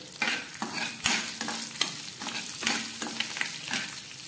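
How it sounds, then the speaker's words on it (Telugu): Dried red chillies, cumin, mustard seeds and curry leaves fry in hot oil in a kadai for a tempering. The sizzle is crackling and fizzing, broken by repeated scraping stirs and sharp spatter pops, with no voices. "కడాయిలో ఆయిల్ వేసి కాగాక ఎండుమిర్చి, జీలకర్ర, ఆవాలు, కరివేపాకు వేసి బాగా ఫ్రై చేసుకోవాలి."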